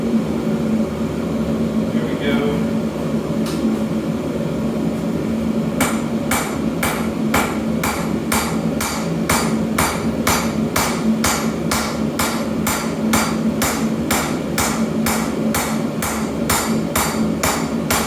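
After a pause, a power hammer pounds hot steel for a nakiri knife blade in a fast, steady rhythm of many ringing blows over a constant low mechanical hum in a forge.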